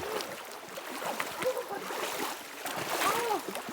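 Splashing and sloshing come from someone wading through a cold stream on the Appalachian Trail, irregular and close, over a background of flowing water.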